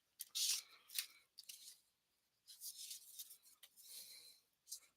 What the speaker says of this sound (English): even though these scissors cut brilliantly, I like mine better